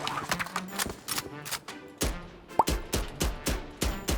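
Phantom rifle with the Neo Frontier skin firing in a video game, a series of sharp, close single shots in a steady semi-rapid rhythm with short gaps, loud and punchy with no talk over them.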